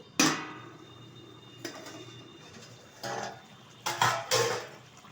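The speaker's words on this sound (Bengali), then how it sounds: "ঢাকনাটা তুলে দিচ্ছি।" Metal lid lifted off a pot of bhola fish curry cooking on the stove, giving a sharp clatter followed by a few lighter clinks and scrapes of metal, close and fairly loud, with no talk.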